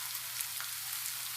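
Ground masala of ginger, garlic, pepper and cumin sautés in a pan for crab pepper fry, a quiet, steady hissing sizzle with faint crackles, close and continuous.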